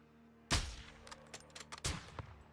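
Sniper rifle fire in Call of Duty Modern Warfare 2's Recon By Fire campaign mission: a loud, sharp shot, a scatter of smaller cracks, then a second heavy blast with trailing reverberation.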